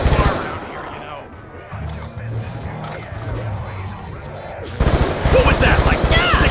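Gunfire in Black Ops II Zombies on the Buried map: rapid bursts of shots, loudest in the final seconds, mixed with game noise and faint background activity.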